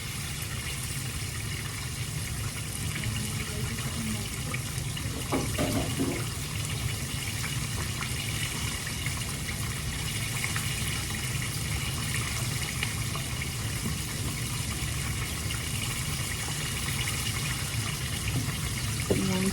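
Water runs steadily into a pan in a continuous hissing gush, about a cup poured while cooking, with a faint clink partway through.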